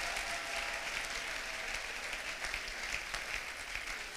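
An audience claps steadily to acclaim the Lord at a church youth seminar, a sustained, even burst of applause from a full room that lasts throughout.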